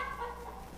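A chicken clucks briefly inside a backyard coop, one short close murmuring call.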